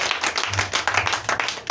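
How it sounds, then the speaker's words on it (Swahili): A church congregation claps for Jesus at a morning service, lively close rhythmic clapping with quick uneven hand strikes. "Pigia Yesu makofi mazuri"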